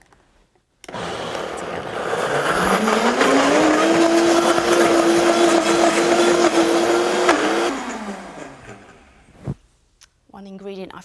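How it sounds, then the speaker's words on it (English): A stick blender whirs through a vegan cheesecake mixture, spinning up to a loud sustained whine that holds steady for several seconds and then winds down, followed by a brief spoken word. "You'll need to use your mixing stick for this to get in, mix all"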